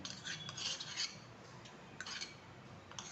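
A spoon stirs masala and butter into pav bhaji in a pan, giving soft scraping and clinking of metal in irregular strokes, fairly quiet.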